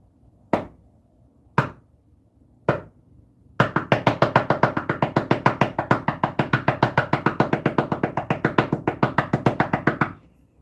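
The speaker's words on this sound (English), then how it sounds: "I'm sorry, Crystal, that was 66 knocks." Knocking during a paranormal investigation in a house: three separate sharp knocks spaced about a second apart, then a long fast run of dozens of evenly paced raps, close and loud against near silence.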